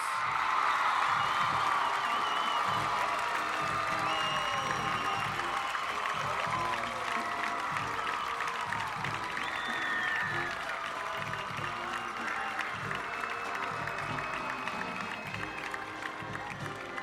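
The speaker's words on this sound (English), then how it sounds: "let's give another round of applause to our homecoming king, queen, and their court." Crowd applauds and cheers steadily in the stands for the 2014 homecoming queen at a high school football game, Weslaco East vs PSJA North, with scattered whoops and voices over the sustained clapping throughout.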